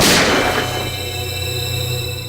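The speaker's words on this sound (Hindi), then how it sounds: "सर, गोली चलने की आवाज?" One loud gunshot cracks at the start and then rings out in a long, fading metallic decay with a low hum underneath, with no voices.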